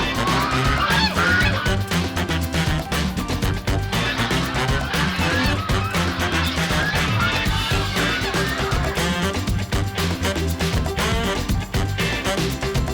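A flock of ducks quack and honk loudly and continuously as they are chased and caught, a dense, chaotic clamour of calls close by throughout.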